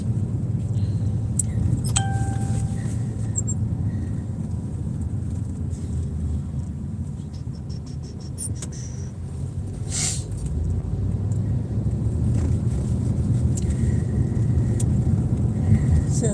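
Car driving east on the road out of Indianapolis through the city's outskirts, a steady low road and engine rumble throughout, with a few small clicks and tones over it.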